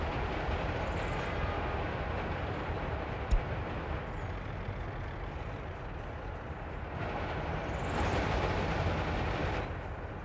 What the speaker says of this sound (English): our train should now have sufficient power to actually operate properly